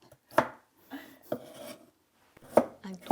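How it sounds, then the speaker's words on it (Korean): A knife chops ingredients on a wooden cutting board while making chirashi sushi, with scattered crisp strikes separated by pauses and softer scraping, close and clear. "도마 소리 들으니까 어릴 때 생각나요"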